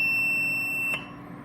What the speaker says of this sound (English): it just beeped due to the low amount of water in there